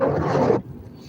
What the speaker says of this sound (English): these wipers are loud